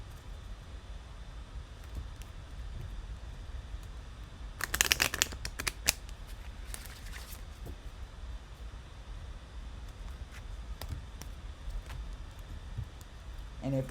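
Tarot-style oracle cards shuffled in a quiet room, a burst of riffling and snapping near the middle followed by softer, scattered card flicks over steady low background hiss.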